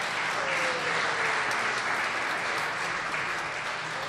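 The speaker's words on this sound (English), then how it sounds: "Give him a round of applause again." A studio audience applauds a radio comedy performance in a broad, continuous wash of clapping that stays loud and even from start to finish, with no voices over it.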